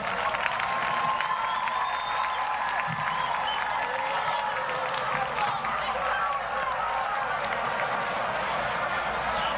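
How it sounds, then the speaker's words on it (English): Broad, steady applause from a crowd at a high school football game, Central Bobcats at Waco Lions, carries on for the whole stretch with honks and calls mixed in, heard from a distance. "Let's give a warm round of applause for Jason Jordan Alvarez."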